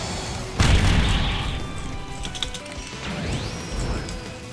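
A heavy booming impact from the Grizzly Magnum attack in Anime Battle Arena, a Roblox fighting game, hits once with a loud crash, then a rumbling tail and a rising whoosh fade out.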